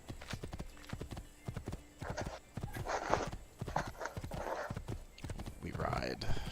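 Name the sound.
horse hooves clip-clop in Assassin's Creed II video game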